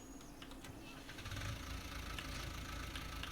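A tractor engine in Farming Simulator turning over and settling into a low, steady idle, a constant rumbling drone at moderate distance with no talk.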